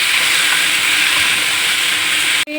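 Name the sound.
ingredients poured into hot pan, sizzling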